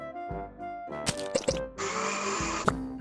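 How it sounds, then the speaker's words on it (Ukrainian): A blender whirs through pears, apples and plums in a children's cartoon, a loud whine of about a second after short clicks and knocks. "Різні фрукти ось дістали, та у блендер їх запхали."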